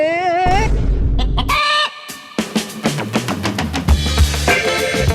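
Village chickens kept for cockfighting in the Philippines: a rooster crows loudly and close, then hens cluck in a busy, uneven run of calls, with no talk over them.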